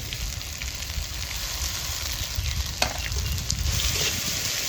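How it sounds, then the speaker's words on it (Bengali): Rice frying with spices in a pan makes a dense, even sizzle from up close, with one sharp crackle partway through and no voices. "ঠিক এইভাবে যখন ফুটবে তখন ভাববেন যে হ্যাঁ চালটা ভাজা হচ্ছে"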